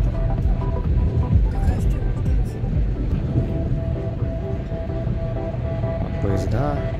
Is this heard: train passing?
yes